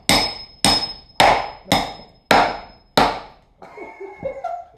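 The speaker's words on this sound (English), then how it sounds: "you get it in your piece of wood, then you hit it with a hammer" Six sharp, evenly spaced hammer blows drive a wood-splitting tool into a log, each crack ringing out close and loud before fading, followed by quieter scraping and shifting sounds.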